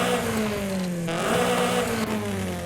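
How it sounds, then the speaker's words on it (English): A car engine in Forza Horizon 5 revs in a sustained, even tone with a brief dip partway through, heard alone with no talk as different exhausts are cycled. "as you go through the different exhausts, you can hear the difference."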